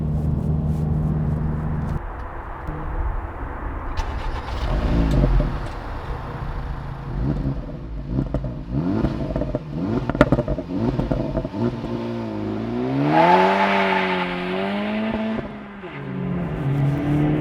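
A 2024 Acura Integra Type S hot hatch engine revving and accelerating hard, with rising and falling engine tones, gear changes and a strong climbing pull near the end, heard from inside the car.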